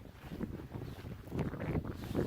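Wind gusting against a Berghaus Cheviot 2 tent pitched on an exposed side of a tor on Dartmoor, a steady rumbling buffet with rising surges, no talk.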